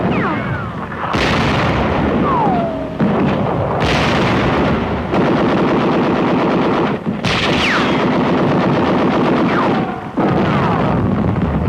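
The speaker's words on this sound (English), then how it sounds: "Self-propelled 105mm howitzers spearhead the attack." Self-propelled 105mm howitzers firing during a WWII attack near Agno in 1945, heard as loud, continuous booming and crackling artillery fire, with heavy blasts running almost the whole time and a few brief gaps.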